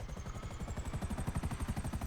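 Helicopter in the GTA Online video game, its rotor chopping in a fast steady rhythm over a constant engine whine, fairly close and alone with no talking.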